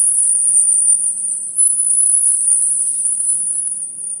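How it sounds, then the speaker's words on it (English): Crickets chirping outside a house, a continuous high-pitched trilling that carries steadily through the whole stretch, fairly loud and alone, with a faint low murmur beneath. "Well, that's crickets."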